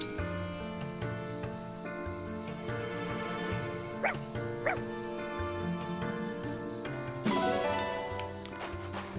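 A dog barks and yips in Fire Emblem Engage, short bursts rising over steady layered game music, with a few chimes and a brighter effect near the end.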